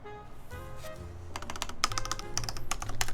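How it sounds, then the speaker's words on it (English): Keycaps bottoming out on a polycarbonate Maja ergo keyboard: a quick burst of close, sharp typing clacks in an uneven rhythm that builds after a soft low hum at the start. "Sounds like keycaps bottoming out."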